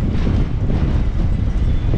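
Strong wind buffets the microphone in a steady, loud rumbling roar with no pauses, lasting the whole two seconds.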